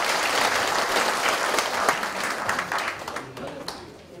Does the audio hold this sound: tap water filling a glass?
no